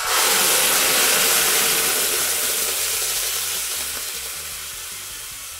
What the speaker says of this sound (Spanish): Bueno, ya voy a poner a reducir la salsa.